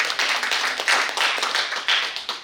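An audience claps at a Korean book launch event to welcome a speaker to the stage, a brief burst of steady applause from a crowd in a room.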